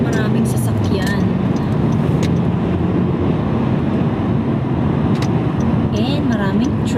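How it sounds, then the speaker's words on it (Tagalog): Busy road traffic with many cars passing, a continuous dense wash of tire and engine noise mixed with wind buffeting, steady and fairly loud throughout. "Medyo traffic, maraming sasakyan."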